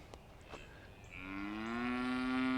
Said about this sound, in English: They were hollering right in my ear.